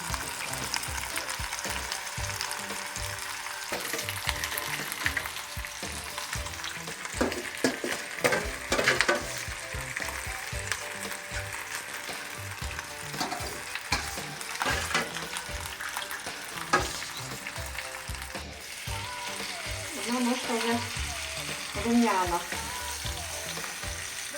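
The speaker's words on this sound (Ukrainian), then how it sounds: "І буду смажити на олії" Vegetables sizzling and frying in oil in a pan, with a steady crackling hiss throughout and occasional stirring and clinking of utensils, close and moderately loud with no talk.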